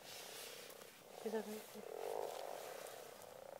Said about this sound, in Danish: Jeg hører, de siger kvak, kvak.